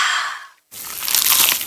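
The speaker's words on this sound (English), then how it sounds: "Is that the sound of an ooey gooey, cheesy, crunchy slice of P-I-Z-Z-A?" One bite into a crunchy, cheesy pizza slice, giving a loud crisp crunch after a brief silence, then a burst of crackly chewing.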